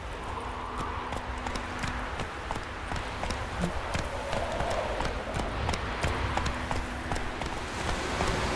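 Roach the horse gallops in The Witcher 3, a quick steady clip-clop of hooves close by and fairly quiet, with a low ambient hum underneath.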